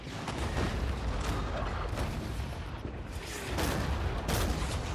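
Cannon fire in Empire: Total War booms in dense, overlapping volleys, with rumbling blasts layered over a constant battle din.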